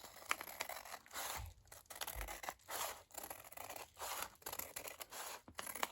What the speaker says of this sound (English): going to cut just the inside of that line because I drew it in pen